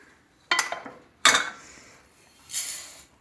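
Sugar is tipped into a cooking pan in a kitchen, giving two sharp clattering pours of granules against metal followed by a softer hiss of settling grains.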